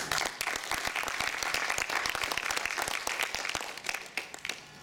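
A student association's annual general meeting crowd breaks into applause, a thick, sustained wash of clapping that holds steady and thins slightly toward the end.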